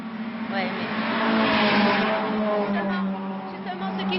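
Renault R8 Gordini race cars in a one-make cup lap the circuit, their engines roaring steadily and swelling as they pass, with people talking nearby over the noise.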